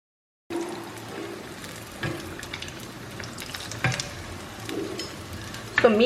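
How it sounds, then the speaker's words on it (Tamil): Ajwain leaf bajji deep-frying in hot oil over a medium flame, a continuous close crackling sizzle with occasional sharper pops and a brief stirring clatter at the end, no talking. "ஸோ மீடியம் ஃப்ளேமில் வச்சு ஃப்ரை பண்ணும்போது உங்களுக்கு நல்லா கிறிஸ்பியாக வரும்"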